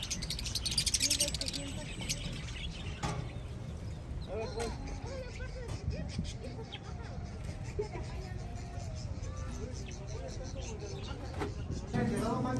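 Caged birds at a market bird stall in Querétaro, Mexico, chirp and tweet in scattered bursts over a bustling background of crowd murmur and passing traffic, with people talking nearby.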